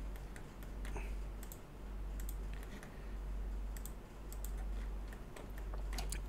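Keys on a computer keyboard click in quick irregular bursts during CAD modelling work, faint and fairly close over a steady low hum, without talk.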